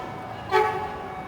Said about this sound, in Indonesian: Itu dia berwarna merah KRL seri KFW 9000 produksi